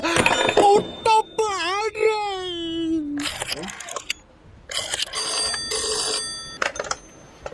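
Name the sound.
telephone ringing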